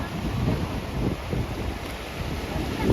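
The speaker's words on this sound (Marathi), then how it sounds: "टाकळी नदीला आत्ता अचानक पाणी वाढ झालेली आहे" Rushing water of the Takli river in Beed surging in a sudden overflow, a steady broadband roar with wind buffeting the microphone throughout, loud and continuous with no voices.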